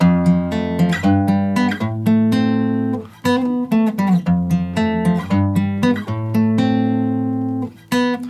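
An electric guitar plays a bright, repeating riff of quick plucked notes and chords at a steady rhythm, close and clear with no talking.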